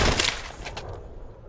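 A short burst of rapid film gunfire, a few sharp cracks up front that fade into a rumbling tail.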